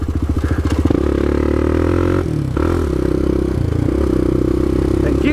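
A motorcycle engine runs loud and close at low RPM with a suspected failing clutch, its lumpy rhythmic chugging giving way to a steady drone with clattering shifts in tone midway.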